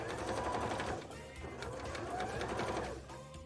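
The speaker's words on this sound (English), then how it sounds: "Trying to follow the same where I stitched before because I think that will look the best." A sewing machine stitches a moulded bra in a close, continuous whirring run with a brief slowdown partway through, steady and fairly loud with no talk.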